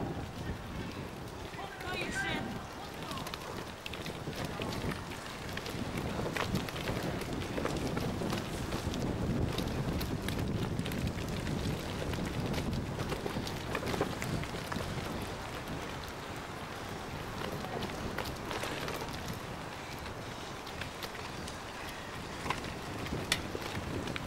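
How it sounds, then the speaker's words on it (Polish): Strong wind buffets the microphone outdoors at the Skoda Auto Grand Prix 2002 in Polanica Zdrój, a continuous rough roar that rises and falls in gusts and stays loud for the whole stretch. "Wiatr, silny wiatr"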